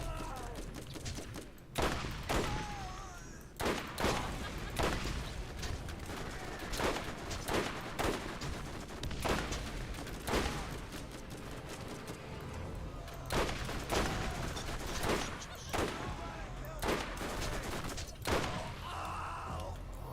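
Sniper rifle fire in the Borderlands video game, a series of loud sharp shots repeating irregularly over a continuous game soundscape of effects and rumble, with no speech.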